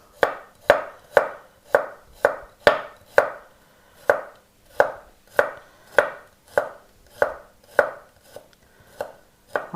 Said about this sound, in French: Je commence par la couper en petites tranches.